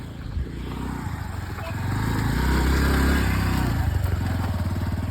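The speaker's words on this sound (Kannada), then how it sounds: "ಗಗನ್ ಬಂದ ಬೈಕ್ ತಗೊಂಡು." A motorcycle engine rumbles closer, growing louder and peaking before settling into a steady idle nearby.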